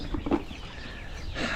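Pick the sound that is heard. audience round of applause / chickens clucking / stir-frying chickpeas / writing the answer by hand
chickens clucking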